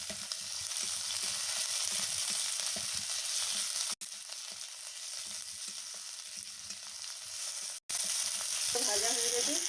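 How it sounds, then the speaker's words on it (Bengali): Fried onion and freshly chopped tomato sizzle steadily in a pan for chicken liver kosha, a continuous close crackle with two brief cutoffs and a soft stirring scrape near the end. "দেখুন আমার পেঁয়াজটা ভাজা হয়ে গেছে। এখন আমি একটা টমেটো কুচি করে রেখেছিলাম দিয়ে দিলাম।"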